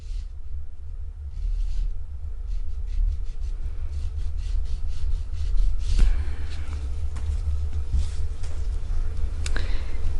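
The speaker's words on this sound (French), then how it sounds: "je viens limer bien droit" A nail file rasping across gel nail tips in repeated straight back-and-forth strokes, soft close scratching over a steady low hum, with a couple of sharper clicks later on.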